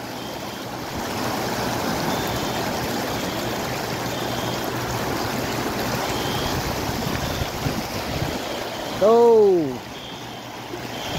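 Steady rushing floodwater flows through a flooded street in Mecca, a continuous loud wash filling the scene, with a brief voice near the end.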